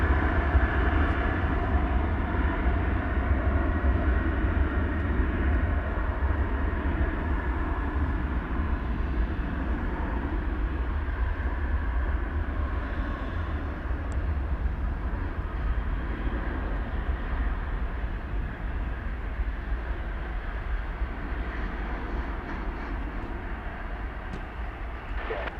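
An American Airlines Boeing 737-800 jet takes off from DFW Airport at night, a continuous broadband engine roar and rumble heard from a distance, fairly quiet and steady throughout with no talking.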